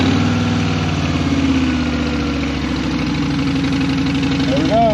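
A motorcycle engine running on a new lithium battery, settling into a steady throbbing idle with an even pulsing rhythm, heard close and loud throughout.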